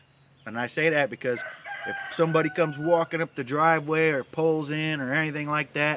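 A rooster crows loudly in an outdoor yard where chickens and guinea fowl are kept, its long calls overlapping with someone talking close by throughout.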